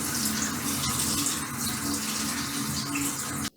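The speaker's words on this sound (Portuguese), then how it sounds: "passar rapidamente debaixo da torneira de uma água mais fria" Cold water from a kitchen tap pours steadily over food held in a sieve, a continuous close splashing rush with no talk, ending abruptly.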